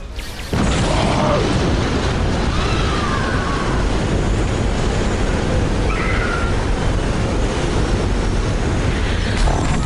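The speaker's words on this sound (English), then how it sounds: "A hull breach near the transporter room." A starship hull breach explodes in the video game Star Trek Online, with a sudden loud boom that settles into a heavy, continuous rumbling roar.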